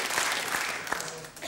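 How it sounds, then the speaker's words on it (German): Studio audience applauding on a German TV talk show, a steady wash of clapping with a voice talking faintly underneath. "Dafür hat RTL 2 doch keinen Applaus von Ihnen verdient"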